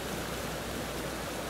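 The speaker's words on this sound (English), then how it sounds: "Look at the waterfall." A waterfall rushes as a steady, broad roar in a snowy cliffside setting, continuous and even with no voices over it.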